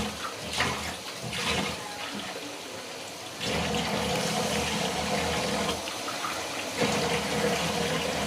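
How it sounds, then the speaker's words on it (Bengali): Water poured into biryani masala frying in a pan with onion, ginger and garlic, a steady rushing pour and bubbling that drops briefly, then resumes louder and continuous, close up. "পানি দিয়ে দেবো কষানোর জন্য।"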